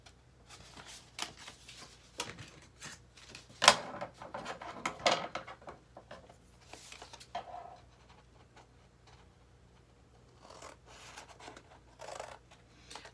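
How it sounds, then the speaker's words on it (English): Scissors snipping through paper to cut a double-sided pocket for a TN planner, a run of short crisp cuts and rustles at close range with quiet pauses between. "I'm going to cut it directly up from a 3/4 of an inch in, and then all the way up to the fold line"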